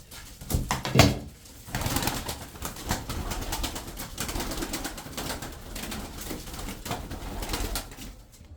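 Tumbler pigeons coo in a loft, with soft repeated coos and a brief flutter of wings near the start, against a busy, close background.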